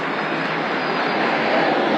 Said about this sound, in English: the airplanes are coming so close they're disturbing him